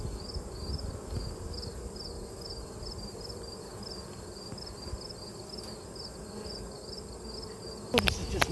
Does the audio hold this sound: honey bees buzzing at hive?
yes